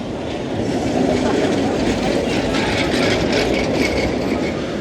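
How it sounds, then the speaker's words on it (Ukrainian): An old Lviv tram rattles by close up at Rynok Square, with loud rumbling and clattering wheels on the rails. "Старенький львівський трамвайчик."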